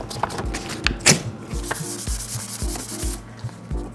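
Fine 800-grit sandpaper rubs over the painted center cap of a Land Rover Discovery 3 wheel, a close, steady back-and-forth scratching in regular strokes with no talk.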